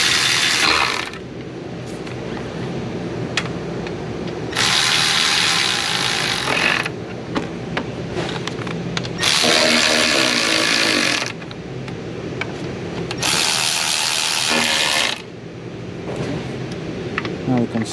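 A ratchet tightens exhaust bolts on a 2020 Genesis G70 2.0T, with four bursts of rapid clicking over a steady background hum.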